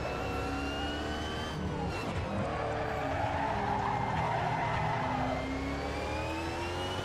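Tyres skidding under hard braking on a V8 Supercar in the Assetto Corsa racing game at Road America, a sustained engine drone with a rising and falling squeal layered over it, steady and loud throughout.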